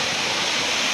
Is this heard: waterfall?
yes